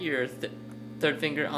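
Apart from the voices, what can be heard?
No everyday noise stands out behind the speech.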